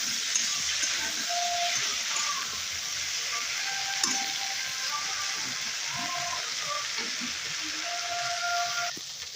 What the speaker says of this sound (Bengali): ভেন্ডিগুলো ভাজা হয়ে গেছে।